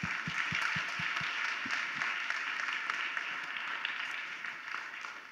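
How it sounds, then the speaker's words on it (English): Participants at an interactive art experiment reveal event give a faint, steady round of applause that runs for several seconds, with a few soft low thumps near the start. "I want to give everyone a round of applause for participating in this"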